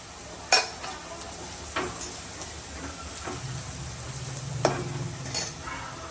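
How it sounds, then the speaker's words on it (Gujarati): Garlic frying in a pan gives a faint background sizzle, broken by a few sharp clinks of a utensil against the pan and a low rumble in the middle. "લસણ સારા અંદરથી મસ્ત મજાનું જો ફ્રાય થઈ ગયું છે"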